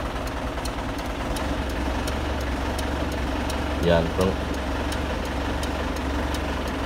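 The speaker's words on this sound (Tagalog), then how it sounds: "Pakinggan nyo yung makina." A car engine idles with a steady low rumble throughout, while a person speaks briefly over it.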